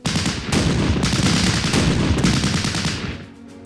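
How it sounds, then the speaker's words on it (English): A Sherman tank opens fire in the war game Battle Academy, a loud sustained burst of rapid gunfire lasting about three seconds before cutting off sharply. "Let's move up our next tank, this Sherman. Open fire."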